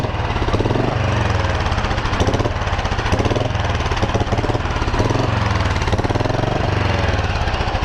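A 2009 Royal Enfield Bullet with a carburetor and its choke on runs close and loud, a steady rapid mechanical thumping with a dense, rough exhaust rumble that holds constant throughout.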